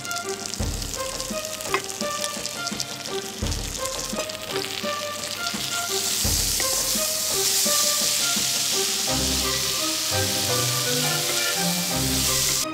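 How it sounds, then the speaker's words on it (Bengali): Marinated rice for a sweet Bengali basanti pulao fries in a pan with a continuous close sizzle. Some stirring scrapes cut in now and then, the frying grows a little louder partway through, and nobody speaks. "এবার এতে ম্যারিনেট করে রাখা চালটা দিয়ে ভালো করে ভেজে নিন।"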